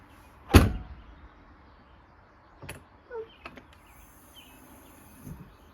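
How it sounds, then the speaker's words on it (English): Gullwing door of a composite trailer pulled shut from inside, a single loud thump near the start followed by scattered softer clunks and knocks of the door and strap in a quiet interior. "So now we'll see how hard it is to close it from inside."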